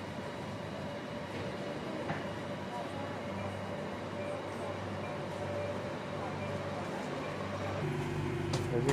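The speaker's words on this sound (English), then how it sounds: "And here comes the train." A Bangkok MRT metro train pulls into a station with a steady rumbling roar that builds slightly toward the end, and a voice speaks over the noise.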